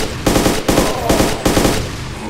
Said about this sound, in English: We should fucking stop shooting so I can shoot him.